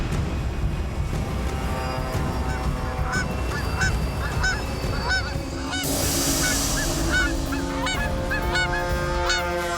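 Repeated goose-like honking from a bird, loud and close, calling in irregular bursts over a dense, noisy background.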